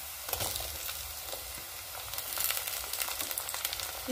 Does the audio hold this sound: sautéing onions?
yes